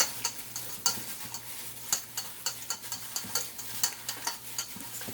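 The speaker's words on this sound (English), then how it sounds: "Marinate this until all the spices are incorporated in the chicken wings" Raw chicken wings being tossed and worked by hand with a spice rub: a steady run of soft wet squelches and sharp little clicks at a fairly even pace, close up, with a low steady hum underneath and no talking.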